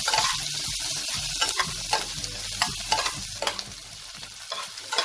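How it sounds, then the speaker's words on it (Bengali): Two small finely chopped onions frying in a pan for quinoa pulao, with a steady loud sizzle and repeated scraping stirs at an irregular rhythm, close up, with no talking. "পেঁয়াজটাকে আমি লাল করে একটু ভেজে নেব।"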